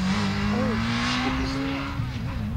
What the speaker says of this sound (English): Are you doing donuts?